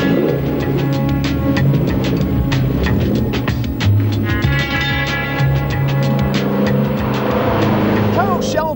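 An AC Cobra sports car driving, its engine a loud continuous rumbling drone with rising and falling revs throughout, heard close up alongside a talking voice.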